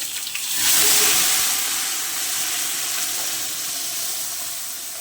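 Puréed onion gravy hits hot oil with a loud burst of sizzling that settles into a steady, close frying hiss, with a faint stir early on and no talking.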